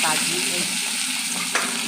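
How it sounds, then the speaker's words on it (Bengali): Carrots and capsicum fry in white oil in a kadai, giving a steady, close sizzle with a brief clink near the end. "গাজর আর ক্যাপসিকাম দিয়েছি অল্প। ভেজে নেব।"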